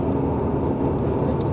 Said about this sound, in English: Truck's coming.